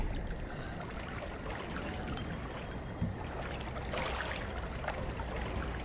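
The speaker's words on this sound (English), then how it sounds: "I'm wading through the water." Steady sloshing and trickling water as a character wades through water in Outlast 2, a continuous low wash with faint splashes and no talk.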